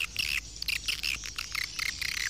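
Swiftlet calls at a swiftlet house, rapid high chirps in repeated bursts with short gaps, fairly loud and close, no talk.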